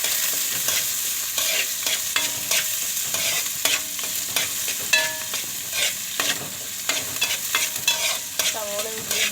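Garlic, ginger, green chilies and curry leaves fry in a pan for fish curry, a continuous sizzle punctuated by frequent spatula scrapes and metallic clinks, close up and without talk.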